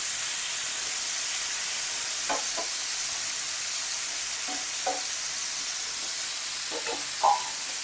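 Bitter gourd sizzles steadily in hot oil, a continuous hiss with a few soft stirring clinks and taps scattered over it, close and moderately quiet.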